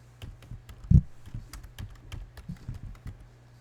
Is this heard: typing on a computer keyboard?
yes